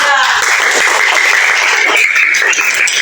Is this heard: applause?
yes